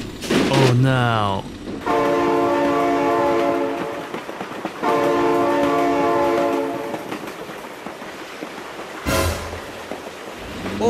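Two long, loud blasts of a train horn in the BeamNG Drive driving game, each holding steady for about two to three seconds with a short gap between, after a brief excited voice at the start.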